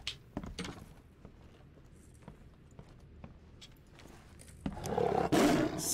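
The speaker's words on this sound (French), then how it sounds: "Sacré rugissement, l'ami." A tiger roar in the horror game The Sinking City swells up loud and rough in the last second, after scattered footsteps and thuds move through a quiet room.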